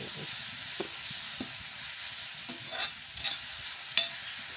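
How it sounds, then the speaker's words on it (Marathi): Curry leaves added to hot oil in a pan for a crab curry, giving a steady hiss of sizzling with a few brief spoon scrapes and stirring clunks, close and fairly quiet. "आपण कढीपत्ता टाकायचा आहे."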